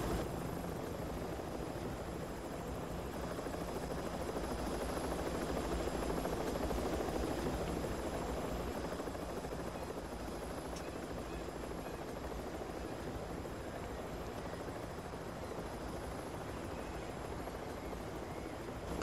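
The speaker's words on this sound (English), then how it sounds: "These helicopters are not quiet." Steady, loud helicopter rotor and engine roar in a video game, with a broad noisy wash, continuous throughout without any talking.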